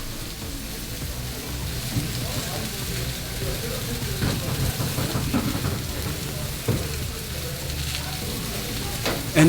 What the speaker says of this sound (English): Look at all that amazing beef sizzling beautifully on the grill.